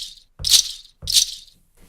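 Ankle bracelet sample triggered from a Roland SPD::One Kick pad: two bright jingling rattle strikes about a second apart, each with a soft low thump, close and clear with no voices.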